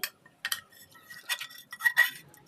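A ladle clinks and scrapes against a pot while caramel is mixed into milk for mishti doi, with several sharp, close metallic taps spaced irregularly between quiet gaps.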